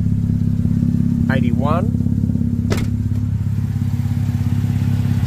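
A Mazda RX8 rotary engine idling steadily at 1000 RPM, loud and close with an even droning pulse; a person speaks briefly over it and a short clunk sounds partway through.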